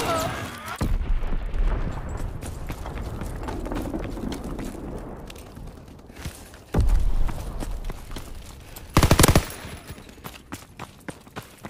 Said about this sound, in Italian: Bombardamento nemico!